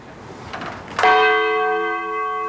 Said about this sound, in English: the bells are heard